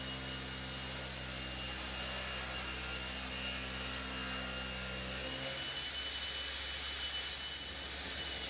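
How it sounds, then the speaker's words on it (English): Sliding saw cuts a rebate for glazing in oak for a mediaeval-style window mullion, a loud steady machine whine with a rough cutting rasp that changes as the cut ends partway through, no talking. "I'm cutting a rebate here for the glazing"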